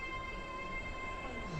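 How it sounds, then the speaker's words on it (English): A non-stopping train runs through a station at Platform 1 with a steady low rumble and rolling wheel noise, fairly even and close, with no talking. "The train now approaching. Platform 1 does not stop here."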